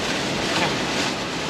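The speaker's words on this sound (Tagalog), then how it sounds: "malakas ang alon" Heavy, steady rushing of ocean waves and wind fills the short moment, loud and close with no pauses.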